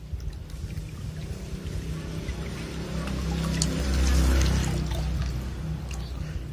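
Water pours steadily into a container, a continuous splashing rush that swells and deepens as the vessel fills, loud and close, with no talk.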